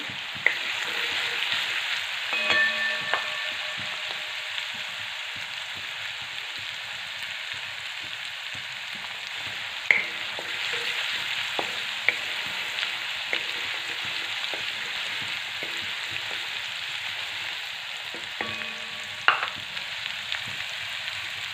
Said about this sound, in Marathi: हे पहा आपली हिरवी मिरची ना मस्त तेलामध्ये परतून झालेली आहे